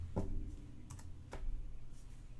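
Keystrokes on a computer keyboard while C# code declaring integer variables is typed, a few scattered soft clicks close by over a low steady background hum.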